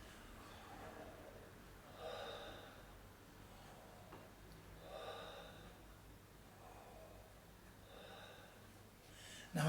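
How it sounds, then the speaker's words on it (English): Deep, slow breathing with a soft throaty rasp, each long in-and-out breath swelling and fading in a steady rhythm about every three seconds, close and quiet with no talking. "I'm making a bit of sound when I breathe in and out."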